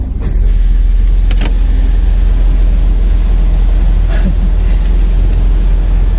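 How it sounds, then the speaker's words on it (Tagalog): A car's air conditioner runs inside the cabin, its fan blowing as a steady, loud broadband rush with a low hum underneath. A couple of faint clicks stand out briefly, and no one speaks. "aircon muna tayo kay init"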